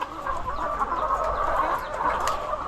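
Hens clucking continuously in a backyard coop during egg collection, a steady, fairly close chorus of overlapping clucks and calls with no talk.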